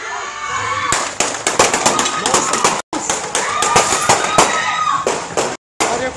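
A rapid string of sharp gunshots crackles during a shooting at Eastwoods in Bellville, dozens of close popping bangs fired in quick uneven bursts with brief pauses, while people talk and shout over them.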